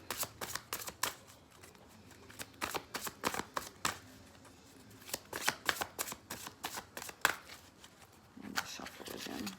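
A deck of cards being shuffled up close in repeated quick riffling bursts, with a voice talking between them.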